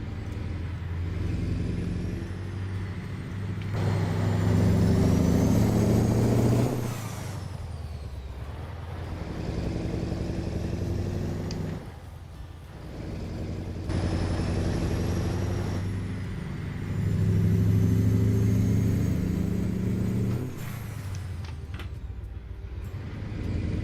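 Heavy Mack truck engine in a trucking video game, a low steady drone that swells and fades in long passes as the load changes, with brief dips between, no talk over it.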